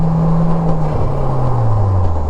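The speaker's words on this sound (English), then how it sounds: "I'm going to get deep into the throttle here." Rewaco trike engine, Super Cruiser model, at full throttle, a loud close droning roar with engine pitch sweeping downward, likely on a gear change, before climbing again.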